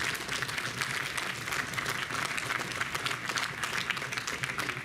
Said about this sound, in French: vous pouvez l'applaudir très fort